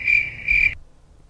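Crickets chirp in a dropped-in sound effect: two short, loud, trilling pulses close together, then a cut to near silence.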